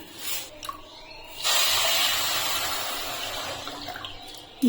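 Water being poured over sugar in a pot to start a syrup for crisp jalebi, a steady close splashing pour that begins sharply after a quiet start and runs on for several seconds before tapering.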